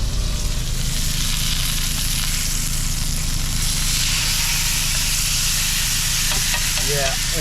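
Steak sizzles steadily in a hot pan while cooking inside a truck, a continuous bright frying hiss with a low background hum throughout.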